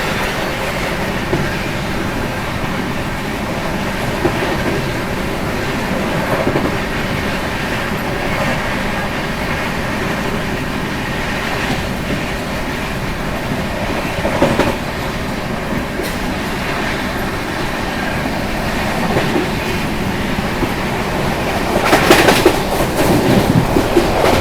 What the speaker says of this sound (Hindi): हमारी विक्रमशिला एक्सप्रेस ट्रेन की जर्नी चली रही है